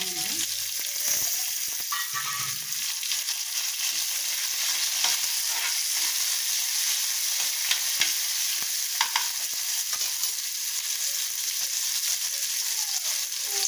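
Chopped tomato and peanuts fry and sizzle in a pan for a Maharashtrian matki usal, with steady broadband crackle and occasional sharper stirring scrapes throughout, loud and close with no talk.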